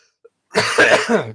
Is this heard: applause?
no